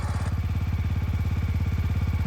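A motorcycle engine runs steadily while riding on a mountain road in Manali, a loud, close, rhythmic low thrum of rapid regular firing pulses that continues throughout with no talk.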